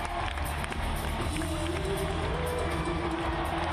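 A roaring crowd fills a climbing arena at a Paris 2016 paraclimbing world championship, a steady, dense wash of cheering and shouting that holds loud and unbroken throughout.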